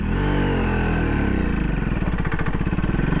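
A Triumph Speed 400 motorcycle engine pulls away from a standstill in fifth gear, a low laboring thrum that strains and gradually picks up into a pulsing, throbbing exhaust beat, close and loud.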